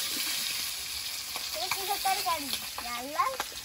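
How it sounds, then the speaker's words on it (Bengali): Steady hiss and crackle of fish roe frying in hot oil, close and continuous, with a voice talking briefly over the sizzle partway through. "তেলটা গরম হয়েছে, মাছের ডিমটা একটু ভেজে নেব"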